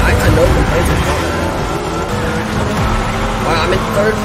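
Race car engines in Fortnite's racing mode hum and drone continuously in the background of gameplay, a steady mid-level motor tone with shifting pitch, with a voice talking over it.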